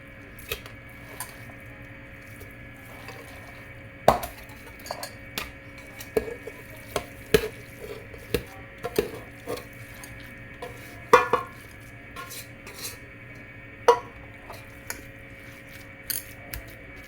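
Beef pickle mixture, rubbed together without any water, being scooped and moved into a pressure cooker: scattered wet squishes, scrapes and soft metallic clinks of pot and spoon, irregular and close, with no talking.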